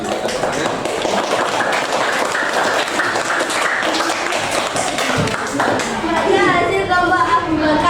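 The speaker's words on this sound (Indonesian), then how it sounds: "ya, bisa tepuk tangan." Classroom applause during a school religious-education lesson, with dense, continuous clapping from many hands lasting the whole stretch and voices mixed in.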